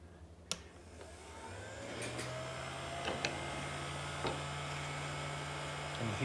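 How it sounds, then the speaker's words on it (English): A heat gun used on a GM seatbelt buckle blows with a steady whirring hum that kicks up partway through, mixed with occasional handling clicks and taps nearby. "All right, so using the heat gun"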